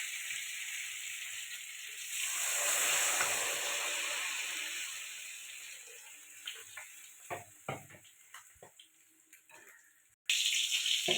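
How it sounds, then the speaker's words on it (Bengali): Water poured into a pan of fish curry with pointed gourd and potato, a rushing stream for several seconds that then thins into scattered splashes and clinks before a sudden louder burst at the end. "এবার জল দিয়ে দেবো।"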